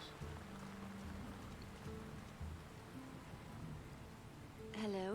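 Rain falls steadily in the fantasy video game Lord of the Rings: War in the North, a soft, even hiss with faint low rumbling and game tones underneath, quiet throughout.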